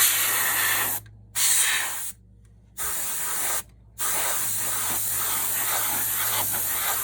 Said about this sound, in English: I'm going to give this a little squirt right here.